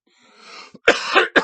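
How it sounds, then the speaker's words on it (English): A small cough after a deep hit of Mandalorian OG Kush: a soft throat-clearing breath, then two short, close cough bursts. "I got a small cough."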